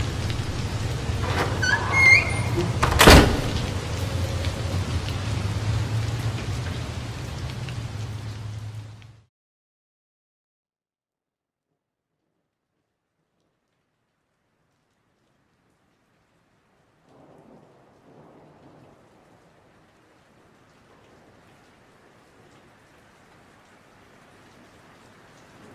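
Heavy rain pours with a sharp crack of thunder in a radio-drama storm scene, loud and steady for about nine seconds, then cuts to near silence before faint, scattered rustling returns.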